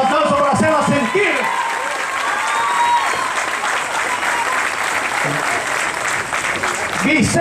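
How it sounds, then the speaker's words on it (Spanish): A political party inauguration crowd applauds loudly for a national deputy, dense clapping mixed with cheers and shouted voices, a talking voice audible at the start and again near the end. "Fuerte ese aplauso para hacerla sentir"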